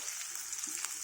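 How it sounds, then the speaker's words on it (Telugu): Onions fry in a pan with oil while cooking a rice dish, giving a quiet, steady sizzle with faint crackles. "ఇవి వేగుతుండగా ఉల్లిపాయలు వేసుకొని"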